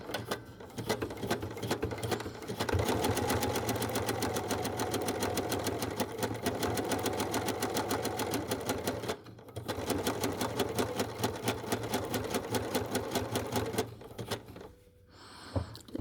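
Sewing machine running a steady triple stitch through wool applique with FT41 thread, a dense, even mechanical chatter close up, with brief pauses near the middle and the end.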